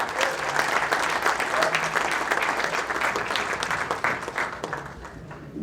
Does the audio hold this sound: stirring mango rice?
no